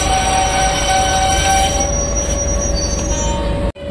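A Garib Rath Express train pulls into Bareilly station with a steady, loud, high metallic wheel squeal sustained over rumbling rail noise, close by, cutting off abruptly at the end.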